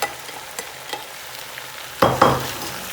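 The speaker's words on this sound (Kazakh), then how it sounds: "Қуырып жатқан кезде осылай араластыру маңызды" Carrots frying in oil for lagman alongside potatoes, a soft steady sizzle broken by a few scraping stirs, then two louder spoon strokes near the end.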